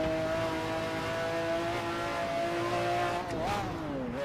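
A McLaren race car in the Assetto Corsa driving game runs at high revs on the Nürburgring, a loud, sustained engine whine that holds steady, then dips and climbs sharply through an abrupt downshift.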